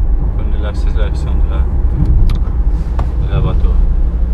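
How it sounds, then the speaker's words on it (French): A Renault Espace 5 car accelerating, heard from inside the cabin as a steady low engine and road rumble, with people talking over it throughout. "Elle accélère bien."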